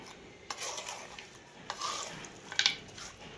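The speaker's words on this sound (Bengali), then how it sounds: "এবারে এইভাবে আমি এটাকে হালকা ভাবে চালাবো, হালকা।" Chicken curry cooked in about 100 grams of oil, gently stirred with no water added, soft intermittent scrapes and light clinks of a utensil against the pot over a low sizzle, fairly quiet, no talking.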